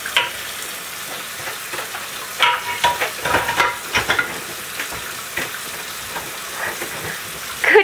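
A child washes dishes in sink water, with splashing, sloshing and clinking in irregular close bursts, including a stronger flurry midway and a splash at the end.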